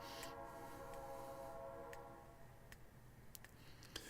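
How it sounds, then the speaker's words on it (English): A train in the video game Stardew Valley passes as a faint, steady rumble with a sustained horn-like tone, plus scattered light ticks and clicks. "I hear a train."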